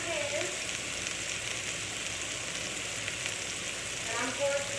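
Small pieces of food frying in a pan, a steady broadband sizzle with crackling that runs unbroken and fairly close throughout, no one talking over it.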